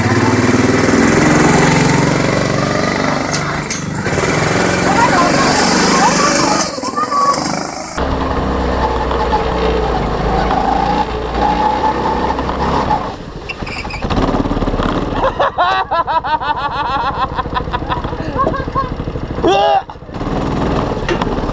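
A go-kart engine runs loud and steady with a buzzing, revving drone that rises and falls, as at a go-kart track, with voices talking and shouting over it throughout.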